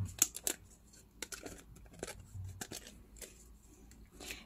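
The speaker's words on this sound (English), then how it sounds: "place that die on it, and cut the windows." A paper frame is cut with a die, giving faint scattered crisp clicks, taps and rustles of paper and metal, quiet and close in an indoor crafting setting.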